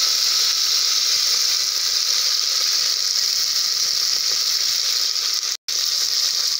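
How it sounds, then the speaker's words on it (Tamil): Spices for plantain flower biryani fry in hot oil, giving a loud, continuous, close hiss of sizzling that runs unbroken until a brief dropout near the end. "நல்லா பொரிஞ்சு வருது, சவுண்டு கேட்குதுங்களா?"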